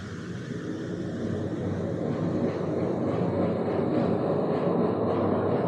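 An E-TWOW Tank Torq electric scooter in Sport mode runs at full throttle on a dyno, a steady loud droning roar with a rising whine that builds gradually and holds without letup.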